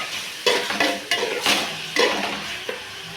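Onions and tomatoes fry in a pan for a meat curry while a spoon stirs them, with rhythmic scraping strokes over a soft sizzle, close by and with no voices.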